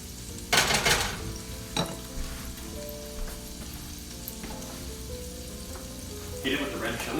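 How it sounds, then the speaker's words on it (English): Garlic, onions and oil frying in an overly hot skillet, a soft steady sizzle with occasional stirring scrapes and pan knocks, a couple of louder bursts of spatter, and faint talk in the background. "garlic, onions, and oil combined together on a skillet smells good"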